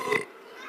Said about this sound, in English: Wait, burping's the answer.